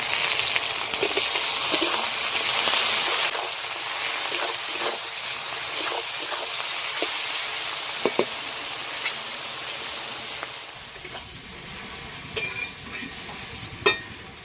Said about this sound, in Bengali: হালকা করে লাল লাল করে ভেজে নেব। দিয়ে দেবো টমেটো কুচি